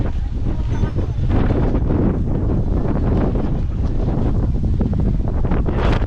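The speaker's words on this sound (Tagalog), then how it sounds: "Ang hangin." Steady, loud wind roars and buffets against the microphone throughout on a mountain near the Dupinga River in Gabaldon, Nueva Ecija, a constant rumbling gust with no letup.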